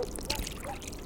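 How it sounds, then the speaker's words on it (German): Water pours onto weed plants in Drug Dealer Simulator, a brief, soft splashing trickle that is fairly faint and heard on its own. "Dann könnte man eigentlich mal ein bisschen Wasser geben"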